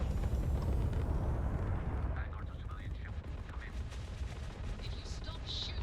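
Enemy ships attack in the Starfield video game with a continuous rumble of gunfire and blasts, dense at first and then thinning into scattered distant shots and laser-like zips.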